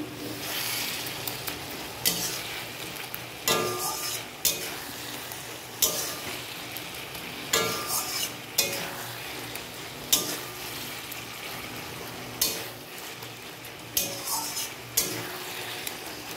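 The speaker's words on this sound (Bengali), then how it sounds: "এবার একটু ভালো করে কষে নেব।" Taro greens and hilsa fish head in oil sizzle constantly in a pan while a spatula scrapes and clacks against the metal in a steady rhythm of stirring strokes, close and fairly loud, with no talking.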